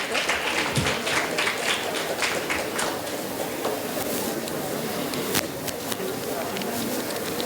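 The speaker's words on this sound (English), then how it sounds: "A huge round of applause for our panelists and the moderator for the session." An audience at a panel discussion on education applauds the panelists and moderator, dense clapping filling the room steadily, with a voice faintly mixed in.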